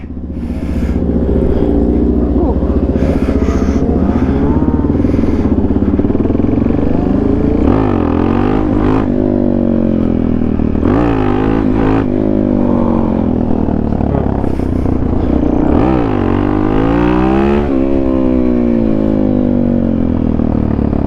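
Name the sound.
Suzuki DRZ dirt bike engine riding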